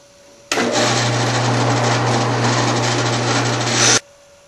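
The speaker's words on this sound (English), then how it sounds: "I'm going to go ahead and drill this out." A drill driving a Forstner bit through a 3/8 inch piece of wood runs steadily for about three and a half seconds, a loud continuous whine with a strong low hum that starts and stops abruptly.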